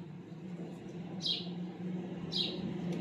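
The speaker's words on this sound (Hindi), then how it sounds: "दो चिड़ियाँ जो है ना इधर तार पे बैठी हैं" Small birds perched on a wire outside a village home give two short, bright chirps about a second apart over a low steady background hum.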